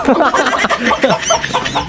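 Close-up chicken sounds: a hen clucks and chatters in quick irregular bursts, loud and busy throughout.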